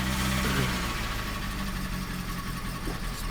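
A 1990 Peugeot 309 with a 1294cc engine idles just after a cold start with the choke pulled out, a loud, close, steady low rumble with slight vibration and no talk.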